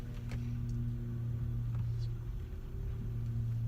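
A car engine idling after being started, a steady low hum and rumble heard from inside the cabin, with faint small clicks and shifts over it.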